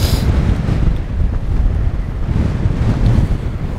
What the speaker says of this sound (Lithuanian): buvo tikrai dar tas vėjas